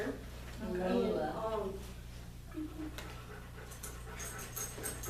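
Dogs pant rapidly and steadily nearby, including the puppy Lola, with a soft rhythmic breathy huffing under a person speaking over a low background hum.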